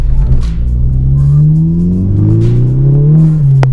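A heavily modified 2010 Mk6 Volkswagen Golf GTI engine revs hard and close, its pitch climbing and dipping through a missed gear change, loud and steady throughout with no talking.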